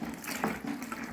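Water pours in a faint, steady trickle into a mixing container while thick bleach is being made, with a soft splashing rush and no voices.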